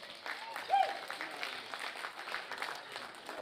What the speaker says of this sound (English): Let's give them a good round of applause.